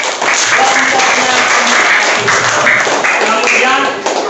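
Applause for a group after their presentation in a classroom or workshop, with steady clapping filling the room and voices talking over it.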